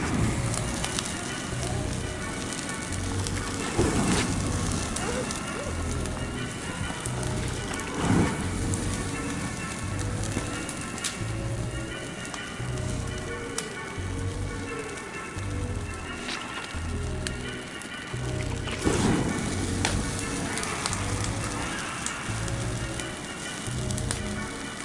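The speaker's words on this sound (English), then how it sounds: "Get this bonfire going." A Bonfire Night bonfire of a felled Leylandii tree burns outdoors with steady, dense crackling and hissing, broken by sharper pops and snaps throughout.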